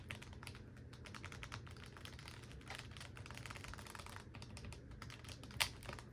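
Rapid, continuous clacking of a computer keyboard being typed on with its keycaps removed, close and dry, with the switches rattling in an uneven stream and one sharper click near the end.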